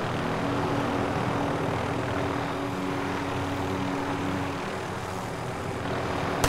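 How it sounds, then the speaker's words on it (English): A helicopter in a video game approaches with a loud, continuous rotor and engine roar that fills the scene steadily and stays close, with no voices over it. "this helicopter's coming in"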